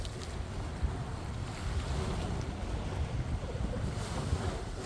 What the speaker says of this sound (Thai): นี่ขนาดเขามีที่กั้นไม่ให้คลื่นนะนี่นะเนี่ย